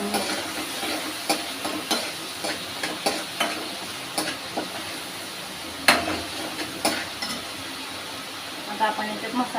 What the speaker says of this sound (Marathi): प्युरी छान अशी